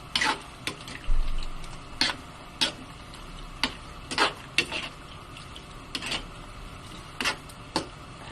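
Squid and shrimp with cheese being stirred in a pan, a utensil clicking and scraping against the metal in irregular taps over a faint sizzle, close and fairly crisp, with no talk.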